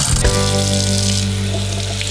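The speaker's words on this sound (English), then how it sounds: "I'm using water inside to do dishes" Water runs steadily from an indoor kitchen tap into a sink during dishwashing, a loud, continuous hiss and splash with a brief clatter at the start.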